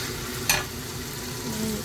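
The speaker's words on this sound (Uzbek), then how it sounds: "Chesnokni yaxshilab qovuramiz." Onion pieces frying in a hot pan make a low, continuous sizzle, with one sharp clink of a utensil near the start and gentle stirring noises after it.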